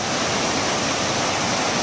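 Heavy rushing water of Tujuh Bidadari waterfall in a mountain forest in Aceh, a dense, constant roar filling the whole clip at steady loudness with no other sounds standing out.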